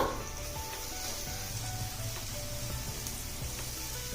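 Ginger garlic paste frying with chili powder in a pan for an egg gravy curry, giving a steady, close sizzle with faint crackles throughout and no talking.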